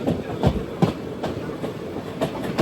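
A train rolling into Tirur station, with a steady clickety-clack of wheels over rail joints: a series of regular, close, fairly loud beats under a continuous rumble of the moving carriage.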